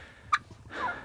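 A person imitates a turkey gobble with a brief, quick warbling vocal burst followed by a breathy, rising trailing sound, close and fairly loud.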